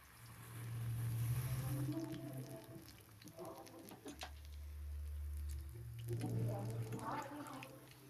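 Bajji with onion and green chillies frying in coconut oil, a low steady sizzle and bubbling that swells and fades, with a voice talking over it.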